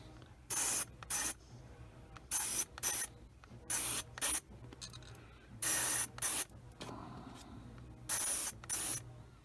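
A Sparmax Flyer SR airbrush sprays paint in repeated short hissing bursts, each about a second long with brief pauses between them, close and clear over a quiet background.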